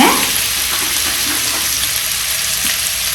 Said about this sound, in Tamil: நீங்கள் வெள்ளைப்பூடு அல்லது இஞ்சி வெள்ளைப்பூடு அரைச்சதையோ போட்டுக்கொள்ளுங்க